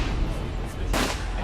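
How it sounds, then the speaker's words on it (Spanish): A single gunshot fired into the air cracks out in a crowded Munich beer hall, one sharp report rising above a dense murmuring background. "de repente suena un disparo al aire"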